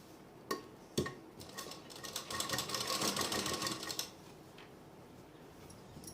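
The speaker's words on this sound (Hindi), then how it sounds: "तो अब मैं साइड की सिलाई लगाऊंगी" A sewing machine stitches the side seam of a lined suit, starting with a couple of thumps before a fast, steady run of needle chatter for a few seconds that then stops, close and clear.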